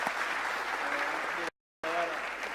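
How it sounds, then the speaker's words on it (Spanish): An audience at a panel session applauds a hackers' team with a dense, even clapping wash, cut off abruptly by a short silent gap before resuming, and some faint voices underneath. "así que también un aplauso para ellos"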